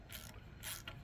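Quick faint ratcheting clicks of a Nissan Xterra brake adjuster, three short bursts in uneven rhythm, close by and alone against a quiet background.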